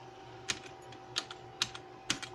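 Keys tapped on a computer keyboard while writing a QBasic program, four or five distinct clusters of quick clicks spaced about half a second apart, close and fairly quiet over a steady low hum.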